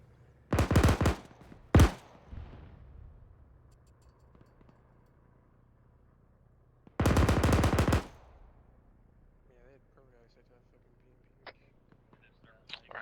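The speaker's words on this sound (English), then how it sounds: "Alright, hold the 50 cal fire." A .50 cal machine gun in Arma 3 fires three loud, close bursts: two short ones near the start, then a longer sustained burst. Quiet background and faint ambient noise fill the gaps.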